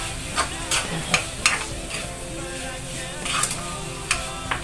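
An egg frying in a pan sizzles steadily at close range while a utensil stirs and taps against the pan in irregular strokes.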